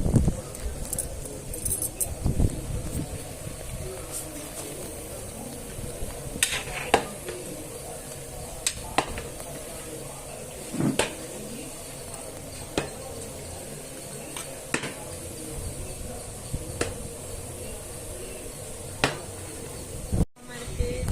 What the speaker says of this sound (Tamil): இப்போ நல்லா கொதிக்குது இது நம்ம கலரி விட்டுக்கினே இருக்கணும்